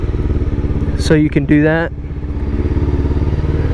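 A Honda CBR 300R motorcycle runs steadily throughout, its engine drone rising briefly in pitch as it revs during a clutchless shift, with someone speaking over the engine for a moment.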